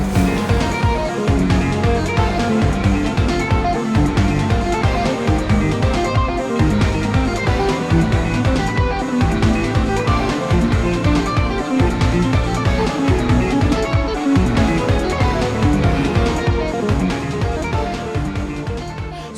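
Fast electric guitar sweep-picking lick played over the same arpeggio shapes, loud and continuous with dense rapid notes throughout, no talking.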